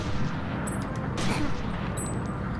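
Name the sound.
gunshot in the video game Omerta: City of Gangsters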